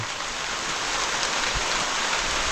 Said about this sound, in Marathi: पावल्या बारीक बारीक का होईना गळायला लागल्या